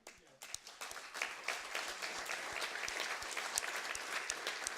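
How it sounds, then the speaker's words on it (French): Audience applause at a digital-themed café evening event, starting with a few scattered claps and quickly swelling into steady, dense clapping from a crowd that continues to the end. "j'ai envie qu'on l'applaudisse tout simplement"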